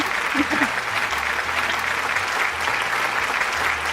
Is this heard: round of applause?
yes